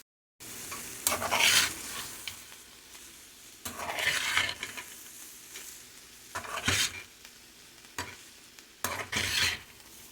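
Vegetable fried rice with chopped spring onion and coriander leaves is stirred vigorously in a pan. Four distinct bursts of scraping and tossing ring out over a soft sizzle, with brief pauses between strokes.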